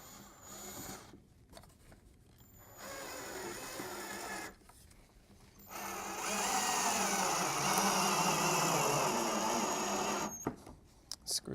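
A power drill drives 2.5-inch screws through an L bracket into a table, whirring in several steady runs of a few seconds each, the last and longest run ending in short bursts.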